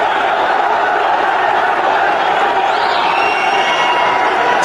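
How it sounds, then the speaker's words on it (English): Cricket crowd at an Afghanistan versus South Africa one-day international applauding Rahmanullah Gurbaz's innings, a steady wash of clapping and cheering that holds loud and even throughout, with no break. "The fans applauding an excellent innings here from Ramanullah Gulbaz."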